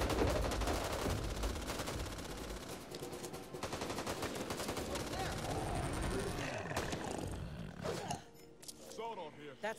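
Rapid, sustained gunfire from bots in the zombie shooter Back 4 Blood, dense machine-gun bursts rattling continuously for most of the stretch before thinning out, with players talking over the shooting near the end.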